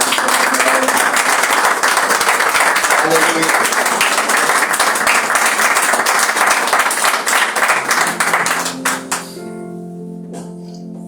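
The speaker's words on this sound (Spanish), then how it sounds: "Dale fuerte ese aplauso a Jesús" A church congregation gives loud, dense applause that holds for about eight seconds, then breaks into scattered claps and fades out, with voices calling out over it.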